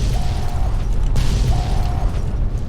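Rumbling explosions in the Fallout New Vegas Lonesome Road game, a continuous loud low roar with a sharp burst near the middle and two short tonal beeps cutting through the din.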